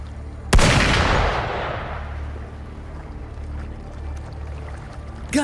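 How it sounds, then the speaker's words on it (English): In the Wuthering Waves video game, a single loud gunshot bursts out and its echo decays slowly over a low, steady ambient rumble, with no voices. "Gunfire! We've got intruders."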